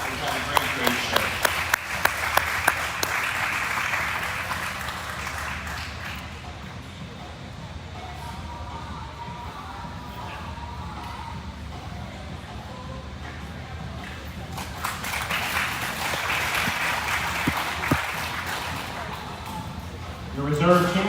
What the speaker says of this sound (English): Let's give these kids another big round of applause because I think we've had a great, great show.